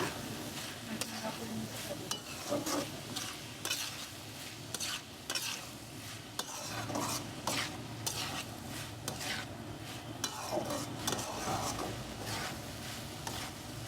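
Potato and carrot fry in a pan for homemade samosa filling, with repeated scraping stirs of a utensil over a steady sizzle, close and continuous.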